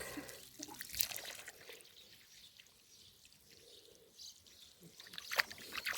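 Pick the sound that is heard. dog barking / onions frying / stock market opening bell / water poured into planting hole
water poured into planting hole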